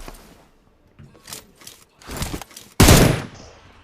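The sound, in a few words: gunfire in a shooting video game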